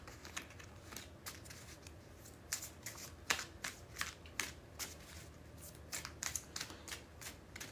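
Tarot cards being shuffled by hand in a quiet room, a run of crisp riffling bursts and soft slaps coming in uneven clusters, close and fairly faint with no talking.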